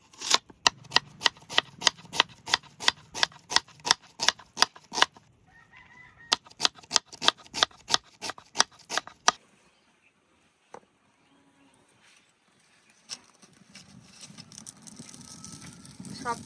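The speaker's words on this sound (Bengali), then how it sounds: "তার জন্য আগে পেঁয়াজটা কাটি নেই।" Onions are chopped on a board for chhita paratha: rapid, evenly spaced knife strikes in two long runs, then a pause and softer scraping and rustling, close up.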